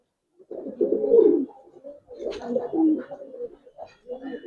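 Giribaz pigeons in a loft give several distinct rolling coos in bursts, close and fairly loud, separated by short pauses against an otherwise quiet background.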